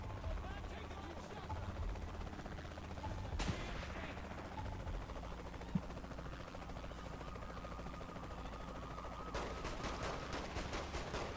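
Gunfire in Saints Row: The Third: scattered shots and a late rapid burst against a constant rotor-like drone and busy game noise, fairly faint overall.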